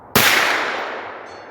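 A 9mm bullet from an AR fired at a steel target 200 yards downrange lands with one sharp, loud metallic strike. A ringing tail fades slowly over the next second and a half.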